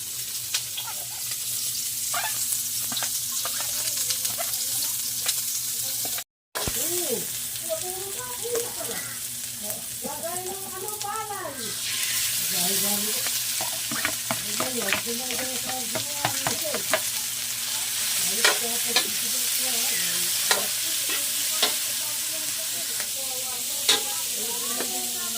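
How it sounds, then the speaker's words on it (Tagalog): Onions and cabbage sauté in a hot pan with a constant sizzling hiss and intermittent stirring clicks and scrapes, while a person talks over the cooking. "So yan po at magigisa na"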